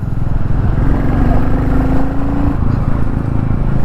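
A Royal Enfield Goan Classic 350 motorcycle being ridden, its single-cylinder engine thumping steadily and loudly up close, with a brief rising tone partway through.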